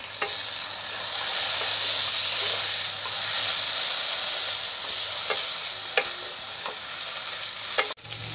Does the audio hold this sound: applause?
no